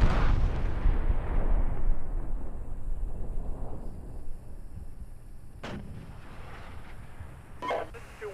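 Tank combat gunfire in the SteelBeasts Pro PE simulation, Russian armor against an infantry company: a loud, booming cannon blast rolls out over the first seconds, followed by two sharper distant shots near the end, with no talk.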